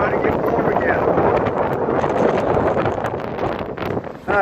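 Cold north wind blows hard across a boat in rough weather, a steady loud roar buffeting the microphone with no letup.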